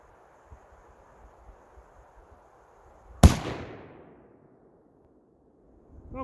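Single sharp gunshot from a Thompson Center Compass II compact bolt-action rifle in .223 firing 55-grain Winchester full metal jacket rounds outdoors, one loud crack with a decaying tail over light wind and quiet background.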